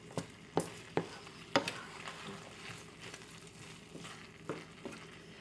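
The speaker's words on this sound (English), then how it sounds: "I'm going to throw that into the mixture. And then I'm just going to start to kind of just mix it all around" Rice gets stirred into a squash and black bean burrito filling in a hot pan, with a spoon scraping and knocking in several distinct strokes over a soft, continuous sizzle, close and fairly quiet.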